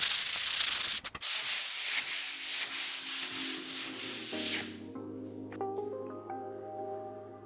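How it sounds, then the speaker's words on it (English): Steady scratchy rubbing of light 120-grit sandpaper strokes between finish coats on cabinets for several seconds, then the sanding stops and a quieter hum with faint tonal sounds remains. "I like to do 2 coats of the finish, so I do a light 120 grit sanding in between coats"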